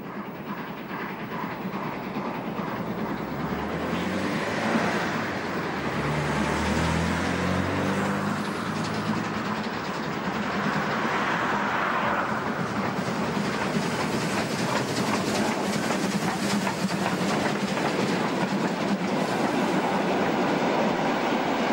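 A Deutsche Bundesbahn class 23 steam locomotive hauls a nostalgia excursion train through the Main valley, its steady rumble and rhythmic clickety-clack of wagons continuous and fairly close, with a low chuffing swell early on and no talking.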